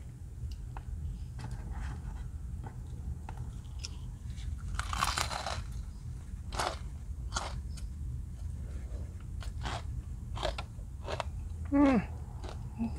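Crunchy bites and chewing of crispy fried chicken tenders from Raising Cane's, close and repeated in irregular bursts over a steady low background hum, with no talk.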